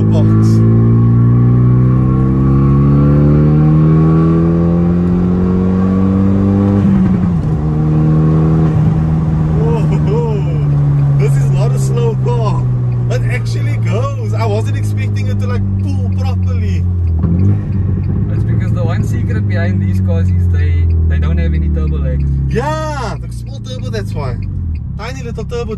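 A Renault Megane RS 225 with a turbo pulls hard through the gears on an open road, its engine note climbing steadily, then dropping at each shift and climbing again. The engine is loud inside the cabin, and someone talks over it.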